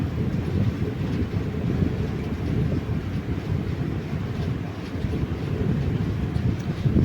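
A continuous rumbling roar of the moving Raptisagar Express passenger train from Gorakhpur, steady and close, with wind buffeting throughout and no voices.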